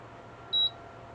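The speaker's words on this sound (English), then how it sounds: "when you hear the beep, it's like ready" A single short, clean electronic beep from an IKEA TILLREDA induction cooktop, clear above a faint room hiss.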